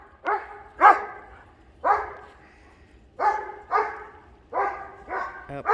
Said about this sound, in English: I see what she's barking at.